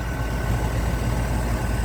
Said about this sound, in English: See how smoothly that idles.